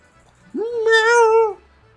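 A domestic cat gives a single clear, close meow lasting about a second, rising then holding a tonal wail before fading, against quiet background.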